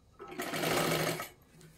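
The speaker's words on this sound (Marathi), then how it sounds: "इथे साईडला एक कडेला आपल्याला एक शिलाई मारून घ्यायची आहे" A sewing machine stitches the lining of a blouse in one short, steady burst of close, whirring stitching that starts and stops within under two seconds.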